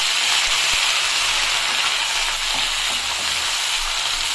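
Cumin, mustard seeds, onion, curry leaves and green chilies crackle and sizzle steadily in hot mustard oil, a loud, continuous, close-up frying hiss with no talking.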